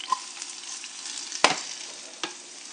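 Potatoes fry in a metal pan with a soft continuous sizzle, broken by a few sharp scraping knocks as they are flipped.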